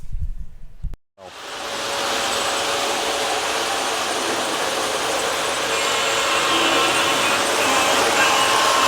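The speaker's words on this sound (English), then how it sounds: "You'll probably recognize the FM Trainmaster Lackawanna leading the full post-war set." An O gauge model train, the post-war Lackawanna set led by an FM Trainmaster, runs steadily on an indoor layout, a loud continuous whirring rumble that starts abruptly after a brief pause and holds even throughout.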